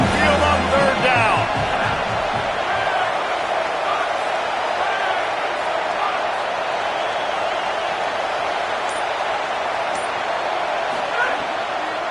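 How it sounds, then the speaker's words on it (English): Steady roaring stadium crowd at an Alabama home game in the NCAA 25 college football video game, a dense continuous wash of cheering on third down, loud and sustained throughout, with a few faint thumps at the start. "Tide crowd rolling noise down on the Saban field on 3rd down."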